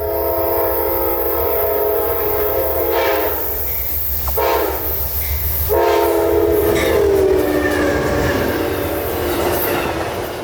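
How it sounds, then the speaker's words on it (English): Amtrak Silver Star 91 passenger train rounding a curve into Tampa behind a Phase 2 Heritage Unit locomotive, loud horn blasts over rumbling wheels and a high squeal of wheels on the curve, close by. "we'd move up here for a curve shot of Amtrak Silver Star 91 about to round the corner"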